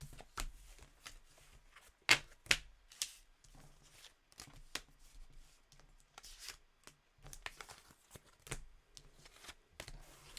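Tarot cards shuffled by hand before a reading, giving irregular quiet riffles, slaps and soft snaps in uneven bursts, close and alone with no voice.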